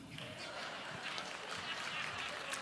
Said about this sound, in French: Ça applaudit pas fort